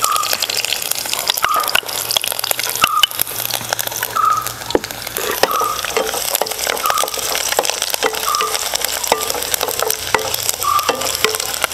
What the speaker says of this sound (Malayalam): കടുക് മുഴുവൻ ആ പൊട്ടിയിട്ട് ആ സൗണ്ട് മുഴുവൻ നിക്കണം.